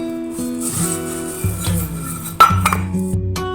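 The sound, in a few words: washing dishes and pots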